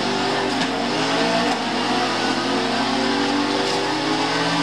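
A rally fighter car engine roars steadily through a race in Forza Horizon 3, with a sustained, loud, even drone and no talk over it.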